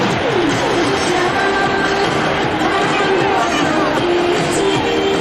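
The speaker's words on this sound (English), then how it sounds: "The crowd is going wild." A dense baseball stadium crowd from a 1999 Tampa Bay Devil Rays versus Toronto Blue Jays game roars and cheers continuously at high volume, a wall of massed voices and whoops.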